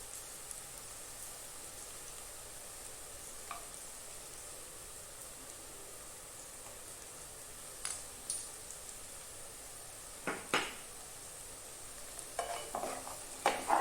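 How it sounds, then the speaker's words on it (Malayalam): Coriander powder is stirred into golden fried onions in a pan, making a faint, steady sizzle; a few louder scraping stirs of the spoon come in the latter half. "ഇട്ട ശേഷം ഒന്ന് ഇളക്കുക"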